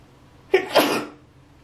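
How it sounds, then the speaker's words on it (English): A single close, sharp sneeze with a quick intake of breath first, then quiet. "I have a sneeze coming."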